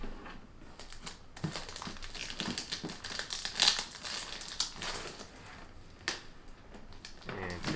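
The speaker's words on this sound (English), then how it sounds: "So opening the lid after I take off the plastic film." Plastic film crinkles and tears as it is peeled off the lid of a SmartFeeder automatic six-meal pet feeder, close and uneven with bursts of rustling and one sharp snap near the middle.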